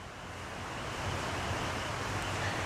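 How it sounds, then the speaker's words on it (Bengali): Hot water pours into a cooking pan of bean and potato curry in a steady, rushing splash that holds at an even level throughout, close by and without voices. "এবার আমি দিচ্ছি এর মধ্যে গরম জল।"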